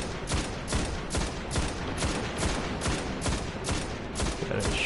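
Rapid, evenly spaced bursts of gunfire from the video game Destiny, a steady stream of shots repeating at a quick rhythm throughout, loud and close with no voice over it.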